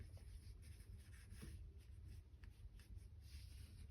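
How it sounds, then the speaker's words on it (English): A pencil scribbles light, loose layout lines on paper for a character sketch, a steady soft scratching with short strokes, close and alone over a low background hum. "So I'll do a layout with a pencil,"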